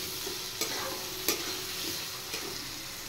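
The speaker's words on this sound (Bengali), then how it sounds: "এবার আলু আর পেঁয়াজ একটু ফ্রাই করে নেব।" Potatoes and onions with a little salt and turmeric fry in a pan, giving a steady close sizzle broken by three brief scraping stirs, with no talking.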